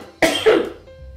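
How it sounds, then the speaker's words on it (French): A single short, loud cough from someone tasting sweet homemade Moroccan gazelle horn pastries, a sharp burst trailing off quickly with no speech. "comme c'est sucré, ça me fait tousser"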